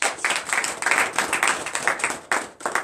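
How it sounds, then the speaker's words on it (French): A church congregation at a morning prayer service in Comè, Benin, claps together in a loud, dense burst of applause that swells and surges for a few seconds, with no speech over it. "Donnez l'acclamation."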